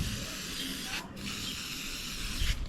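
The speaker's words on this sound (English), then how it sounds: "So now I am going to spray" An aerosol spray can hisses over a fairy garden in two close bursts, broken by a brief pause, with the steady hiss sounding near and fairly soft.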